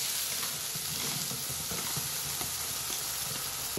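Ground masala paste drops into a few spoonfuls of hot oil and sizzles steadily, a broad continuous hiss with faint stirring scrapes underneath, close and even throughout.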